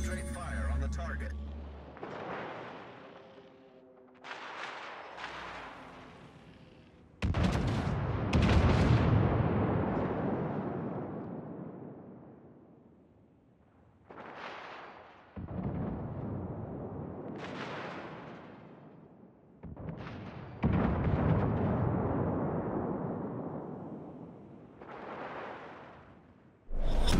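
Repeated heavy booms of naval gunfire from the warship Atlanta in a video game, several loud broadband blasts with rumbling decays spaced a few seconds apart, with game voice lines layered among them.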